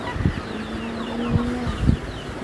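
Native country-breed chicks, hatched under a brooding hen on a farm, give faint, thin chirps over a low steady hum, with a few soft peeps and clucking sounds scattered through the short stretch.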